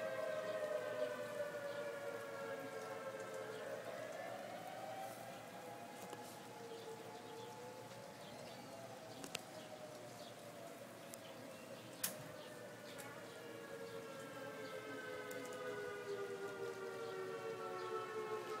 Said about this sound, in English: I heard there's tornado activity, and the sirens are starting to go off.